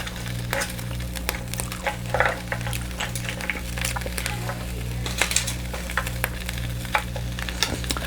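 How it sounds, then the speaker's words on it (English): Steady crackling sizzle of a heating griddle with scattered pops and ticks, continuous throughout, over a low constant hum. "So if you guys hear the sizzling, that's the griddle heating up a notch."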